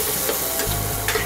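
Chopped coriander stems fry with ginger paste in hot oil, giving a close, steady sizzle with stirring scrapes throughout the short stretch, with no talk.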